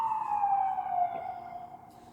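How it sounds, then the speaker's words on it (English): A siren wails outside a window in a slow descending tone, fairly faint and distant, gradually fading out. "I can still hear sirens."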